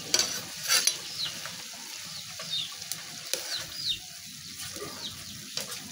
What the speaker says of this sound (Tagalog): Halo-haloin natin.